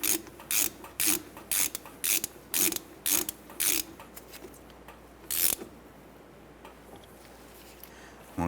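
A hand ratchet snugs down a brake caliper bolt on a 2008–2012 Honda Accord, a series of sharp, close clicking bursts in quick rhythm, then a pause and one final burst.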